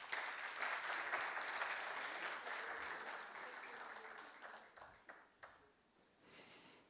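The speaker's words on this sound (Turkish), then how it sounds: "Kuvvetli alkışlarla." Quiet, distant applause from a ceremony audience at a Turkish high-technology report launch, steady at first and then thinning out into scattered claps.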